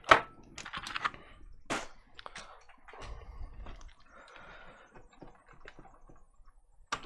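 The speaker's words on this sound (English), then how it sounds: "take the keyboard out" Keyboard being pulled out of an Atari 800XL home computer: a sharp plastic click up front, then scattered clicks, rattles and handling scrapes across several seconds, close and fairly quiet.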